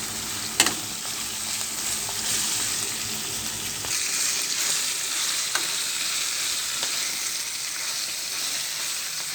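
Fenugreek leaves cook down in a pan for a potato curry, giving a continuous, even frying sizzle up close. A sharp clink near the start and a faint tap later break the hiss, and no one speaks.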